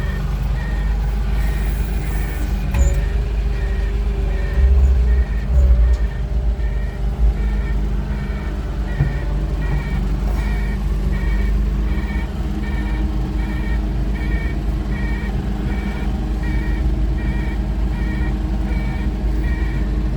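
An Avant 860i articulated wheel loader runs nearby with a steady low diesel drone, a repeating reversing beep pulsing over it, and a few brief clunks early on.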